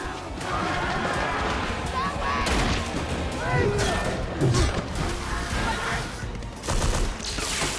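Gunfire in a shooting and fighting scene from the Borderlands movie: a dense barrage of shots and crashing impacts, loud and continuous, mixed with voices talking over the action.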